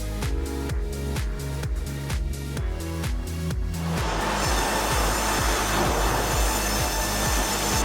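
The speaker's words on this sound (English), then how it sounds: "The 150 horsepower motor and dual saw blades help the machine quickly and accurately cut 6-foot logs" A K&B Lumber six-foot double-cut headrig with a 150 horsepower motor and dual blades cutting logs: loud, rhythmic mechanical pulsing that turns into a dense, continuous sawing roar partway through, with no voices.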